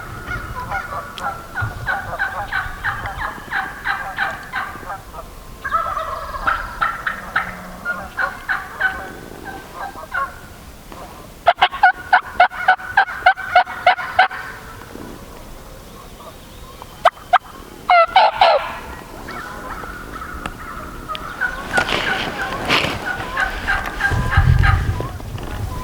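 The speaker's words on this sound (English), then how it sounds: "That turkey sounds like he's coming, Jake." Wild turkeys gobbling on remote public hunting land, repeated rattling gobbles in bursts over about half a minute, some nearer and louder, others more distant, with no talking.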